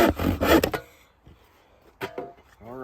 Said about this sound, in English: a rip cut in layman's terms is a cut that goes with the grain